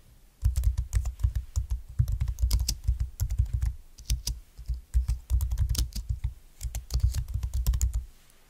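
Steady, rapid typing on a computer keyboard, close and crisp, with continuous clacking keystrokes and a few brief pauses.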